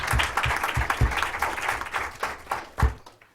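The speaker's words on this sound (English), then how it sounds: "Give them a round of applause, please." A room of spectators claps to applaud a Fort Collins High School team at a Knowledge Bowl competition. The applause is steady, close and dense for about three seconds, then drops away.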